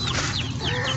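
A hen clucks steadily and close up, a run of short repeated calls and squawks with a farmyard chicken character, no talking over it.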